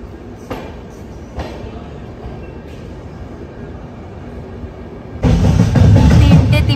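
The 12378 Padatik Express pulls out of Rampurhat Junction: a low, quiet rumble with a few clanks, then a sudden surge of louder, broadband rolling noise near the end.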